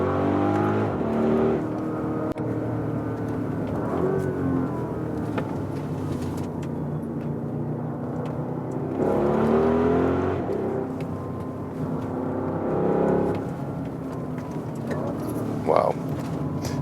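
An Audi RSQ8 engine pulls hard while driving through open landscape, a steady loud drone with two surges of rising revs, heard from inside with some talk over it.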